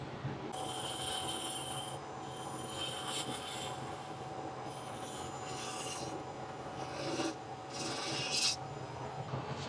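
A wooden finial spinning on a woodturning lathe while sandpaper is held against it, giving a continuous soft rasping hiss over the motor's hum, close and steady with a few brief louder swells near the end.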